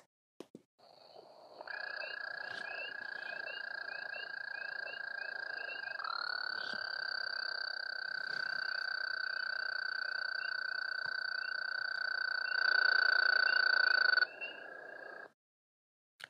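A chorus of frogs gives a continuous, high-pitched, even trill lasting over ten seconds, with a second trill line layered in and a few faint background sounds.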